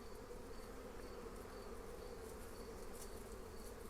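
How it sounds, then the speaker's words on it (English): A hornet buzzing around feeder tubing on top of a beehive, a faint steady insect drone with no voices. "The tubing in the top, look, there's a hornet."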